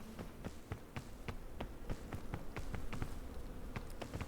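A swarm of bees hovers close in the video game PEAK, a steady buzzing hum broken by frequent crisp clicks and taps, even in level throughout and with no speech.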